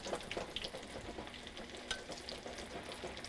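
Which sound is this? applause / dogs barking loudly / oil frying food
oil frying food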